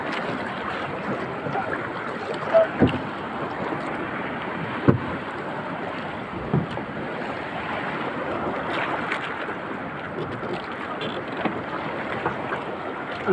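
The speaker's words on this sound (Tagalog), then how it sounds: "Laki ng alon, ha." Big ocean waves wash and slap around a small fishing boat out at sea, a continuous rushing churn with wind buffeting the microphone and occasional sharper splashes against the hull.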